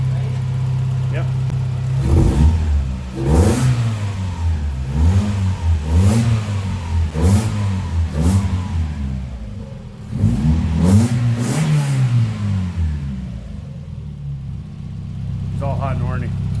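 Mazda Miata engine fitted with a homemade cold air intake, revved repeatedly from idle in several rising and falling blips, close and loud with a throaty intake roar, while people talk over it.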